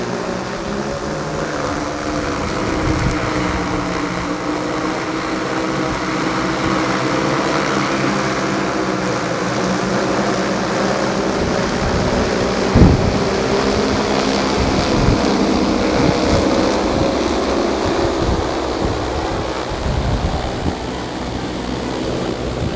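A GARUDA GD25 agricultural drone flies back over a chili field and slowly descends to land, its propellers giving a continuous, fairly loud whirring buzz with wind hiss throughout.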